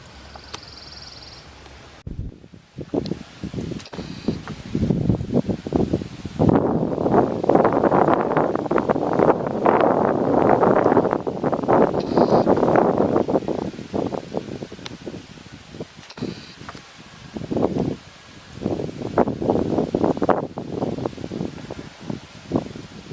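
Gusty wind in a pine forest buffets the microphone, swelling into long roaring rushes and easing between, with rustling and bumps up close.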